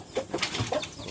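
A rooster with a snoring, rattling breathing condition gives several short, rough clucking grunts at close range, spaced unevenly over a quiet farmyard background.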